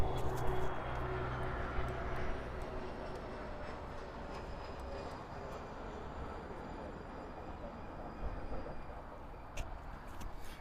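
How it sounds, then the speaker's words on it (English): A Cathay Pacific airliner passes along the south runway at LAX, a steady broad jet roar that holds throughout at moderate distance, with faint voices underneath. "As we have Cathay Pacific coming through there."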